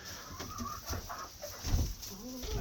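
Chickens cluck and murmur softly around feeding time at a small permaculture homestead, scattered short calls close by over a faint background hiss.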